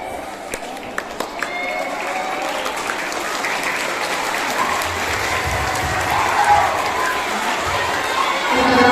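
An audience in an elementary school hall in Lhokseumawe, Indonesia, applauds during a Maulid Nabi commemoration. A few sharp early claps swell into a sustained roar of clapping and crowd noise that carries on to the end.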